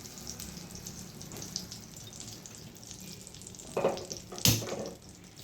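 Oil and butter heat together in a pan for a tempering, ready for a Punjabi sabji; a steady soft sizzle runs throughout, with two sharper spitting bursts near the end.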